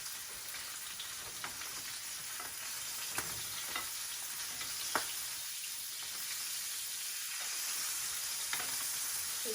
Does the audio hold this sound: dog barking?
no